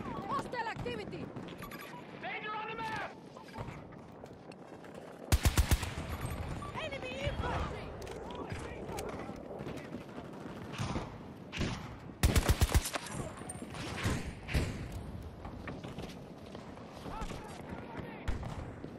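Rapid automatic bursts of BSVM rifle fire in Battlefield 2042, two loud volleys of cracking shots and scattered gameplay noise, mixed in with players chatting throughout.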